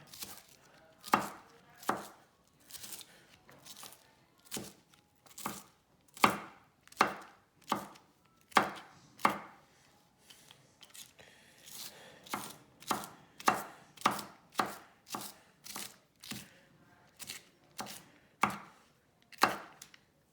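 A knife chops an onion on a cutting board for chili, with a long run of crisp, close, steady cuts that come in quick bunches with short pauses between them.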